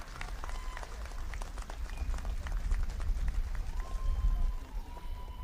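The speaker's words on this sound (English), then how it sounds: "I request everybody to kindly clap." A large crowd at an outdoor political rally in Shillong applauds steadily, a dense wash of clapping that carries on at an even level throughout.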